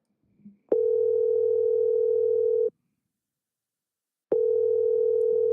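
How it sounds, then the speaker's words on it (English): A steady electronic ringback tone on a phone call sounds for about two seconds, falls silent, then starts again, clear and close over a quiet line. "I'm gonna let the rings play so you can see if he answers the call or not"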